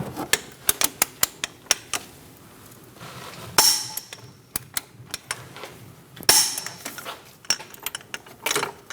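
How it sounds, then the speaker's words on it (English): A torque wrench tightens the strut nuts on a 2008–2015 Scion xB, giving a series of sharp close metallic clicks, some rapid and some spaced, with a couple of louder clunks between them. "Torque the strut nuts to 177 foot-pounds."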